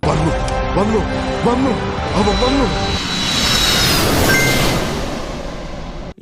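An airplane engine roars steadily and swells in the middle, with a voice speaking over the first half.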